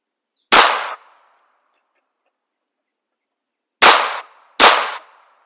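Three sharp, close gunshots from a Smith & Wesson 22X revolver fired at a moving target: a single crack, a long pause, then two quick shots in succession, each with a short ringing decay into silence.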